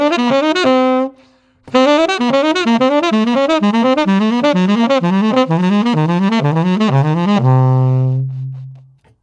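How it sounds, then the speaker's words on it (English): A jazz 1-2-3-5 diatonic cell is moved chromatically up and then back down, a quick, even run of clear melodic notes. A short pause comes near the start, and the line ends on a long held low note. "If we move that 1, 2, 3, 5 cell up and down chromatically,"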